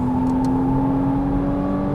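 A 2014 Porsche Cayman S engine accelerating on a track drones steadily at a high, even pitch, a close continuous hum with no talking.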